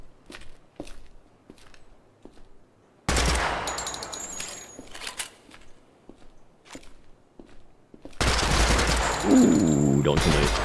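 Gunfire in the survival game Project Silverfish comes in loud, dense bursts separated by quieter stretches of footsteps and scattered single shots, with no talking.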